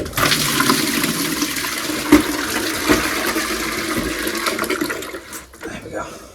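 Water from an isolated toilet drains steadily into a bucket, a loud close rushing gush with a few splashes that tapers off near the end.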